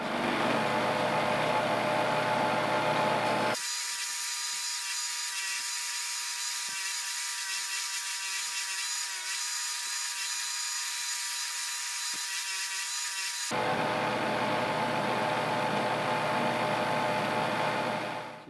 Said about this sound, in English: I still gotta clean it up on the wire wheel